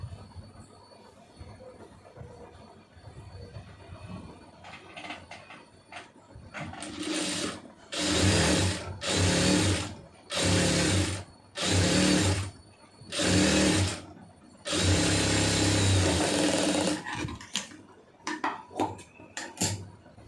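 A sewing machine runs long stitches along a Poonam saree in about six loud, close bursts with short pauses between them, framed by quieter stretches of fabric handling.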